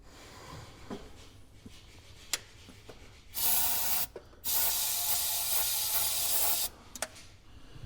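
Ether starting fluid hisses from an aerosol can into a 1965 Chevy engine, one short loud burst followed by a longer sustained spray, with small clicks and knocks between.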